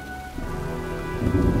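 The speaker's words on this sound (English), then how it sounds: "Well, looks like a storm's coming." Rain falls steadily in a stormy scene from the video game Heavy Rain, with a low thunder rumble swelling louder toward the end over faint tonal music, no voices.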